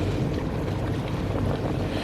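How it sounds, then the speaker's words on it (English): Steady wind buffets a sailboat at sea with a constant, broad rush of gusting air and water noise, close to the microphone and with no talking. "the wind's blowing from the east right now"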